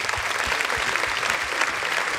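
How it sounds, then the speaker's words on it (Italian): Audience at a dance academy's final show gives a big round of applause, a steady dense clapping with a few low thumps underneath. "ai quali voglio fare un grande applauso"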